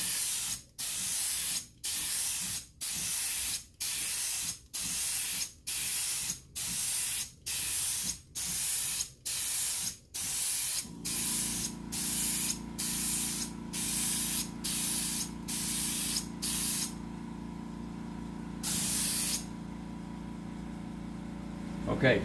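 A paint sprayer coats furniture in a long run of about a dozen short, even hissing bursts, close and loud, then a steady motor drone sets in under further spray passes.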